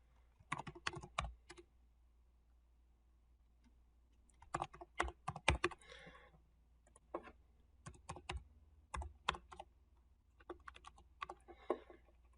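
Contact and billing details being typed on a computer keyboard, with quick clusters of crisp, close key taps in several bursts separated by short quiet pauses.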